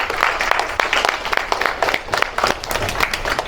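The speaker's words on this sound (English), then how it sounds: "Give yourself a round of applause again." Sports camp participants, young athletes fresh from drills, applaud in a lively burst of claps with some crowd noise, steady and fairly close for a few seconds.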